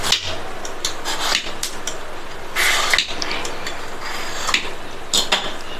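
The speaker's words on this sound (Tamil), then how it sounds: "இந்த வாழைக்காயில் 2 பக்கமும் கட் பண்ணிவிட்டு இதனுடைய மேல் தோலை லைட்டாக சீவிக்கலாம்." A knife scrapes the skin off a raw plantain, with repeated close scraping strokes and sharp taps of the blade, irregular and bright, with no talking.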